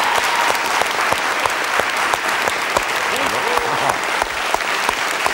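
A television studio audience applauds for a guest named Antoine, producing dense, steady clapping that fills the room and sustains evenly, with faint voices and a few cheers beneath it.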